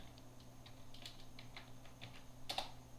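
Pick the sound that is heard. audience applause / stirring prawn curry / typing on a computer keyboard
typing on a computer keyboard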